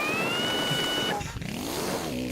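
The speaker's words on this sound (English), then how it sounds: "That's our engine spinning up." A kart engine in the video game Mario Kart Double Dash spins up, a loud rising whine with tonal harmonics that dips midway and then climbs again.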